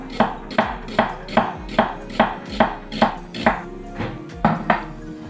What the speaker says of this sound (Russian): Далее я нарезаю крупную луковицу.